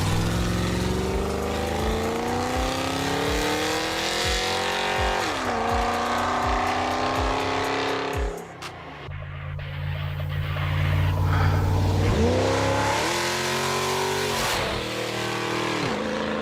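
A powerful engine in a 4x4 Pontiac Trans Am roars and revs repeatedly, pitch climbing and dropping through gear changes, loud and close.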